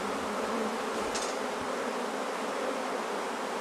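A swarm of bees buzzing as a steady, dense hum that holds level throughout, close and continuous with no pauses.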